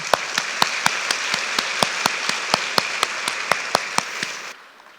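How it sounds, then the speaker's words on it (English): An audience at the 2023 Hsieh Nien Fan event applauds for Mr. Hsieh with sharp, evenly spaced claps in a steady rhythm that stop abruptly near the end. "Let's give him a round of applause."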